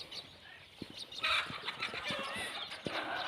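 Agitated clucking and squawks from hens close by as geese chase them, interrupted by short sharp knocks and rustling in an outdoor yard.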